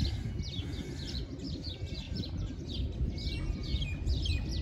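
Crows call in a rhythmic series of caws at a beach park in Dubai, heard at moderate distance over a steady low background hum.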